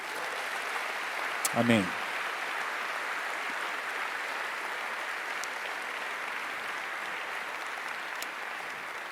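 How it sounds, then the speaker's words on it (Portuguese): Church congregation applauding at a training gathering, a steady wash of many hands clapping throughout, with one voice briefly speaking over it near the start. "Vamos dar um grande aplauso ao Senhor Jesus."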